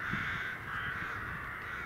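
Crows cawing continuously as a large flock lifts off outdoors, with pigeons mixed in among them; harsh overlapping calls at moderate distance.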